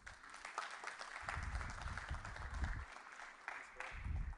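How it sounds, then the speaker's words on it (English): Applause from an audience, soft and somewhat distant, a steady wash of clapping that swells and fades over a few seconds. "please welcome him with a big round of applause"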